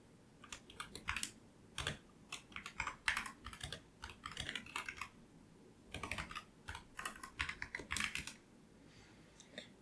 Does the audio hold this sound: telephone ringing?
no